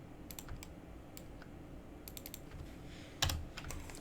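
Computer keys pressed in a modeling session, a faint scattered series of light clicks and taps with one sharper, louder press near the end, set against a low steady room hum.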